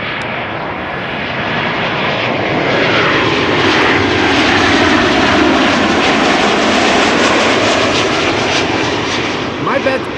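An Airbus A340-600 jet roars steadily on takeoff, a broad continuous engine rumble that swells and holds loud throughout, then eases slightly at the end, heard outdoors at an airport.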